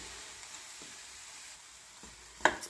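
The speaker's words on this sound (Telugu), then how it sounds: "కలిపి ఇలాగా కొంతసేపు అలా కలుపుతూ ఉండాలి" Sweet bottle gourd halva cooking with sugar over low heat gives a faint sizzle and quiet stirring, then ends in a couple of louder clinks of a spoon against the pan.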